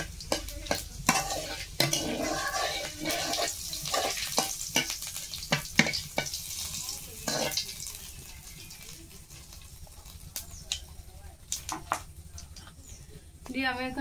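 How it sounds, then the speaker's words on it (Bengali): Cumin seeds and bay leaves dropped into hot oil sizzle and crackle close by, with stirring clatter and bursts of spitting, the frying steady under a short stretch of running tap water. "তেল গরম হয়ে গেছে, এখন আমি জিরে আর তেজপাতাটা দিয়ে দেবো।"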